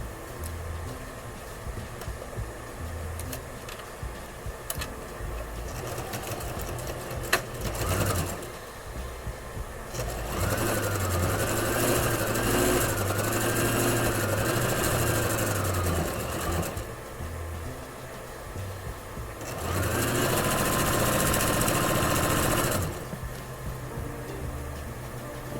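A sewing machine stitches a hem on an old denim jeans jacket in two sustained, loud runs of rapid rhythmic stitching, separated by a quieter pause with light handling sounds.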